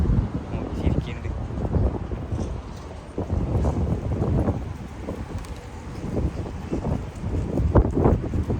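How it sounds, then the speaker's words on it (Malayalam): Hot wind gusting outdoors in Dubai, a continuous low rumbling buffet against the microphone that rises and falls in strength, with a person talking close by. "നല്ല ചൂടുള്ള കാറ്റ് അടിക്കുന്നുണ്ട്."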